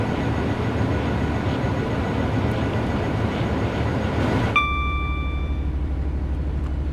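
An EWS Class 66 diesel locomotive rumbles along the Brighton Main Line in Train Sim World 3, a loud steady drone of engine and wheels, then a sharp chime rings out and the engine note settles into a lower hum.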